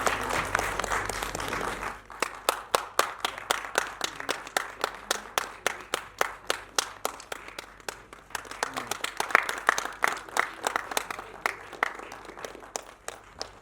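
A crowd at Rajanraj's stage programme claps in a steady rhythmic unison beat, sharp repeated claps filling the room for over ten seconds after a moment of talk at the start.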